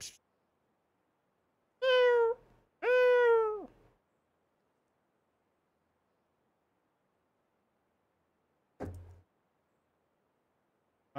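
A house cat meows twice in quick succession, close and clear, in an otherwise quiet night-time room, followed later by a single faint knock-like thud.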